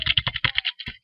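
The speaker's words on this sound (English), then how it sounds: "That's my laptop keyboard when I'm moving around" Rapid tapping on a laptop keyboard: about a dozen close, crisp clicks in quick irregular rhythm over roughly a second, with no voices.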